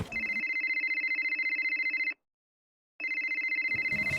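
A phone rings with a repeating electronic ringtone, a steady run of bright pulsing tones that pauses briefly before starting again. The sound is fairly faint and plays alone, without talk.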